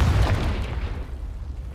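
A Confringo fire spell explosion in the Hogwarts Legacy video game: a single deep, booming blast with a rumbling tail that fades over about two seconds.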